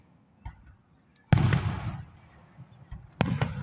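Fourth of July fireworks burst in two loud sharp booms with crackling tails, separated by a few faint pops, nearby outdoors with brief voices.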